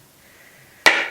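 A bar of handmade peppercorn shea soap gets trimmed straight with one sharp, loud chop that lands abruptly after near silence, its crisp impact trailing off briefly.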